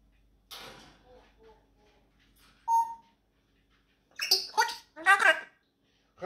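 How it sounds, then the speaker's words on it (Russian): A pet bird whistles indoors: a brief clear tone stands out on its own, with softer chirpy notes before it and a voice speaking afterward. "Слышу, как ты посвистываешь."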